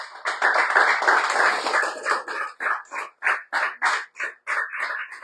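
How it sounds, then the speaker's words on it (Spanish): A church congregation claps during a Spanish-language service, starting as a dense round of applause that settles into loud, evenly spaced rhythmic claps in unison. "Que le da un aplauso al Señor."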